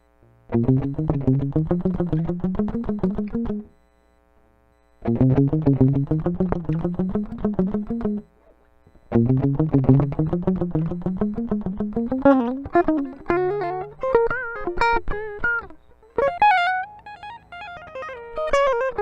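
Electric guitar with an effects-laden, slightly distorted tone plays steady picked note lines at a moderate tempo, pausing briefly between phrases and climbing higher toward the end.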